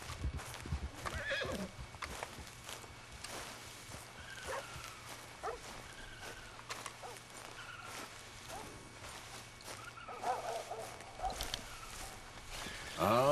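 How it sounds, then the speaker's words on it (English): A Tennessee Walker horse in Red Dead Redemption 2 neighs several times over the soft clip-clop of its hooves as it walks, fairly quiet, with a louder burst at the very end. "he's a Tennessee Walker. That's the type of horse he is"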